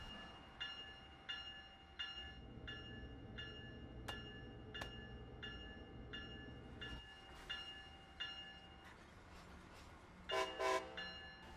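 A passenger train on Amtrak's Boston Auto Train route in the Train Sim World 2 video game gets moving after its brakes release, with a steady low rumble, a rhythmic repeating clicking, and a brief horn-like tone near the end.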